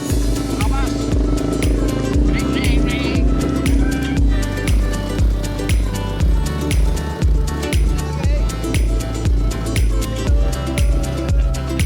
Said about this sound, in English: So we jumped in the three-wheeler and set out for a bumpy ride.